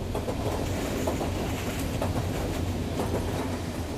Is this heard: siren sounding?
no